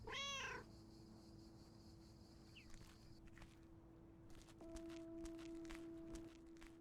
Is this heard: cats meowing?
yes